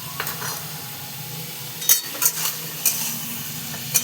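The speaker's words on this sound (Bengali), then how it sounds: "এই দেখো এটা ভাজা হয়ে গেছে, চিংড়ি, পেঁয়াজ, কাঁচা লঙ্কাগুলো সব ভাজা হয়ে গেছে" Prawns, onion and green chillies frying in a pan, a soft steady sizzle under several sharp clinks and scrapes of a utensil stirring against the pan, close by.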